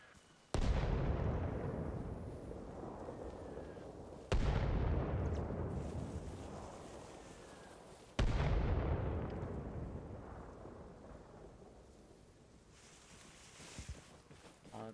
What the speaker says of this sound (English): Mortar fire is coming in.